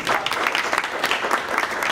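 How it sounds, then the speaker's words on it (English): Rotary Club meeting guests give a dense, steady round of applause, many hands clapping close and loud throughout, with no talk over it. "let's give Yvonne some big round of applause"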